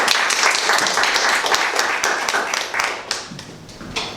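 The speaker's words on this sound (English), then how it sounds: "let's give him a warm round of applause" Audience giving a warm round of applause for a guest speaker at a university talk, dense close hand claps with distinct individual slaps, tapering off slightly near the end.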